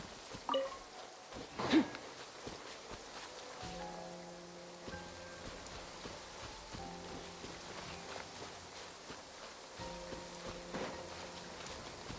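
Rain falls steadily in the Genshin Impact video game, a soft even patter throughout, with a couple of brief louder knocks early and faint tonal game music beneath.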